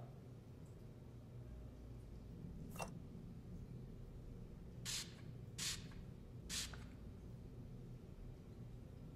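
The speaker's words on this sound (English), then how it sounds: "Anna, spray the wall with luminol." Luminol is sprayed onto a wall from a spray bottle. One brief spritz comes first, then three more short hissing sprays in fairly quick succession, all over a constant low background noise.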